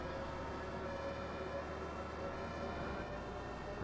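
An emergency vehicle siren plays in the OMSI 2 bus-driving game, heard muffled from inside a MAN D92 bus as a quiet, steady wail under the low engine drone.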